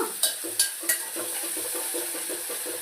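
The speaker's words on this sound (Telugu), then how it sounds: "ఆనియన్స్, ఉల్లిపాయలు కొంచెం ఫ్రై అయ్యాక" Onions frying in oil in a pan while gongura chutney is made, a steady close hiss and sizzle with a few sharp spoon taps against the pan near the start, no talking.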